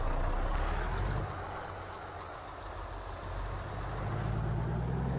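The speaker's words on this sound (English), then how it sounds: "Now the engine mod sound," A Kenworth T680 truck engine from an engine sound mod in American Truck Simulator, a steady deep idling rumble with a hissing, broadband texture, continuous and moderately loud without speech.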